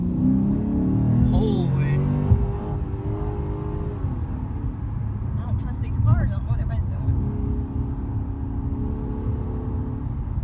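A Lexus RC-F engine revs hard as the car accelerates, a loud rising roar that eases off and builds again under excited talk from the occupants.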